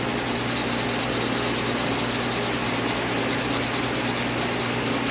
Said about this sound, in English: I'm polishing this rotor arm